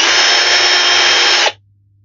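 A power drill enlarges holes in a butane culinary torch in one steady, loud, close run of about a second and a half that stops abruptly and leaves quiet.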